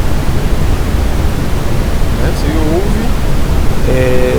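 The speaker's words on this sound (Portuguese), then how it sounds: "Esse é o ruído marrom." Generated brown noise plays as a steady, dense, bass-heavy hiss with no variation, its high end subdued; faint tonal fragments, like a voice, briefly surface over it near the end.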